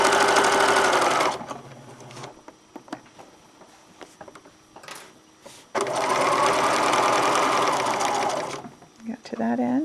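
Sewing machine running steady bursts while machine quilting rows outward from the center of a quilt, a long loud stretch, a quieter pause with light handling noise, then another sustained run of stitching.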